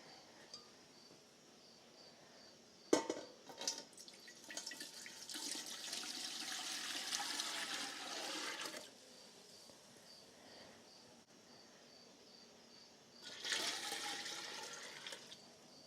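Water from a tap runs into a Pyrex measuring bowl while brine is prepared for canning dilly beans, with a sharp clunk near the start, a long steady pour, and a second shorter run of water near the end.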